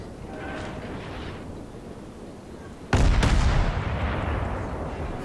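A warship's main guns firing armour-piercing shells in World of Warships, with one sharp, heavy boom that rolls into a sustained rumbling tail after quieter ambient noise.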